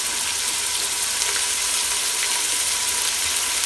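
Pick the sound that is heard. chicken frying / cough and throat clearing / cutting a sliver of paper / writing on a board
chicken frying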